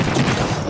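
A short, dense burst of gunfire in Apex Legends, loud and close, packed into under a second.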